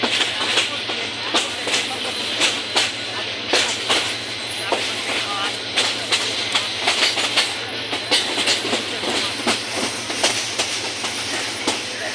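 A passenger train pulling out of Tongi railway junction in Gazipur, Bangladesh, rolls past with a steady low rumble and a rhythmic clickety-clack of wheels on rail joints, sounding close and continuous throughout.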